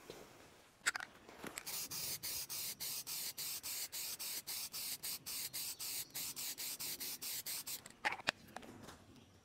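Layout fluid sprayed from an aerosol can onto leftover aluminum stock in a workshop, heard as a long run of steady, rapid hissing pulses close by, with a few clicks at the start and end and no talk.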